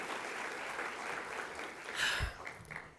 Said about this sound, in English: Can we just applaud one more time?